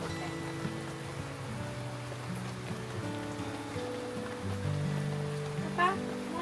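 Rain patters steadily over a campsite in Liliw, Laguna, a soft continuous hiss with a faint drip near the end, while a low tonal hum runs underneath.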